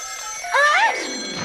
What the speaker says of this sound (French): Ça ressemblait à une sonnerie de téléphone.